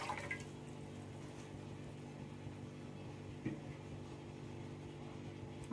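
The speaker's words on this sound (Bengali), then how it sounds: "চালটা রান্না করার জন্য আমি এখানে পরিমাণ মতো পানি" Water poured into a wok on the stove to cook rice, a steady soft trickle and fill sound with a brief clink partway through.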